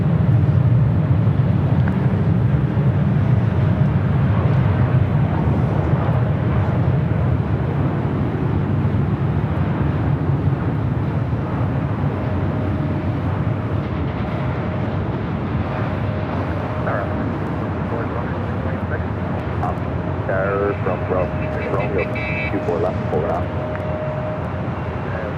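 A Southwest Airlines Boeing 737-700 arriving at Los Angeles International Airport, its steady jet roar holding throughout with a faint whine, while a voice talks over it at times.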